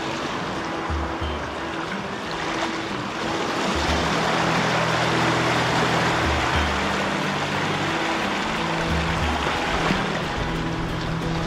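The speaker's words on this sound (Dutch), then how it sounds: "De golven worden wel steeds groter." Sea surf rolling in along a rocky shore with the tide rising, a continuous loud wash of breaking waves, with a low rhythmic engine hum from a nearby boat underneath.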